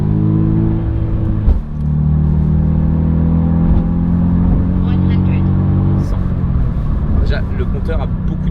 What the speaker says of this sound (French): Donc on va être obligé de faire un départ avec l'antipatinage. Ouf. Les pneus froids, ça patine tout de suite.